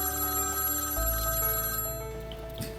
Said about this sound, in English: my phone rings